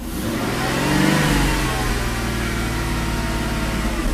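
A Mercedes V8 engine, just fitted with a new throttle body, revs up smoothly under acceleration with a steady mid-pitched roar that swells and then holds, close and loud, with no talking.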